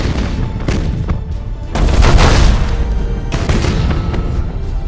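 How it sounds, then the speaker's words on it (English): Broadside macro cannons fire in the space battle game Battlefleet Gothic: Armada. A volley of heavy booms and crackling blasts swells in the middle over a continuous rumbling battle din, loud and dense. "Broadside macro cannons ready to fire on your order"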